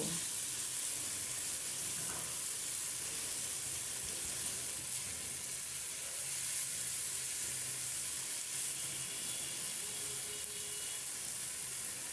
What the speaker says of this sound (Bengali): চিংড়ি মাছগুলি আমি একটু পর পরই নেড়ে ছেড়ে নিচ্ছি যেন ভালো করে ভাজা হয়